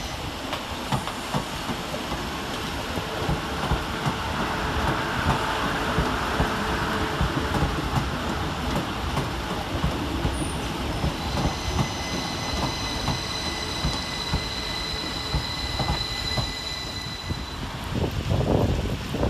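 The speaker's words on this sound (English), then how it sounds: "Finally, a train that isn't a Northern unit as 800 207 and 800 208 pass through" Trains running through Leeds railway station in heavy rain, including a pair of class 800 units passing through, give a steady loud rumble and rail noise with steady rain and wind throughout and a rising clatter near the end.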